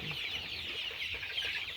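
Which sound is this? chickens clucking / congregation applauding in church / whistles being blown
chickens clucking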